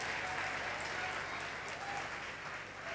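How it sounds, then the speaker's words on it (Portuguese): Church congregation applauding during a sermon, a faint, steady wash of many hands clapping together, heard from a distance for about three seconds. "Aplauda o Senhor Jesus por isso."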